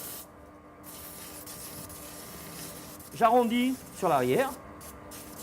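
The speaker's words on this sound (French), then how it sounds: "C'est un backstand, une machine à poncer." A backstand sanding machine grinds steadily while shaping a knife handle in a Périgord knife workshop, a continuous hissing abrasive rasp running throughout, with someone speaking briefly over it near the end.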